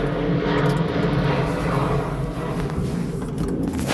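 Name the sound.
airplane flying overhead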